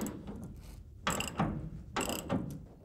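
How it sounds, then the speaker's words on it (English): Ratchet clicking in short bursts while tightening the hinge arm bolts on a Chevy pickup bed being converted into a dump truck, close and fairly quiet, with pauses between strokes. "you can tighten your hinge arm bolts as well as your hinge pins"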